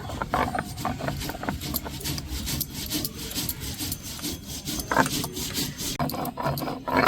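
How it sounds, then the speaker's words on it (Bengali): Poppy seeds being ground into a fine paste by hand for aloo posto with drumsticks, a steady close scraping and rubbing with gritty repeated strokes that continue throughout. "পোস্তটাকে খুব ভালো করে আমি বেটে নিব"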